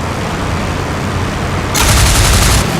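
Aircraft machine guns fire in IL-2 Flying Circus, a loud, sustained rattling burst that starts abruptly and runs for about a second over steady engine and wind roar.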